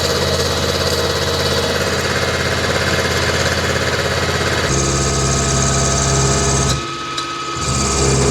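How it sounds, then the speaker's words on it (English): A milling machine cuts a zirconium knife handle with a steady, dense mechanical whir and buzz. The pitch shifts partway through, and there is a brief dip in the cutting noise near the end. "Pretty much done milling the inner shape."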